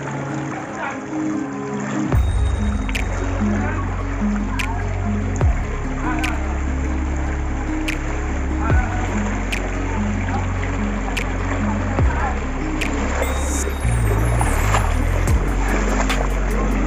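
Strong floodwater rushes down a road in Calasiao, Pangasinan, a continuous churning roar close by, with a person talking over it and engine-like rumbles and sharp knocks recurring.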